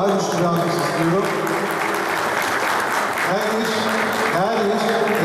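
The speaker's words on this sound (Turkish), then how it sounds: "Böyle güçlü bir alkış, daha güçlü bir alkış istiyorum." An audience claps at an evening event in Edirne, a steady wash of applause running throughout, mixed with a voice talking and some music-like tones over it.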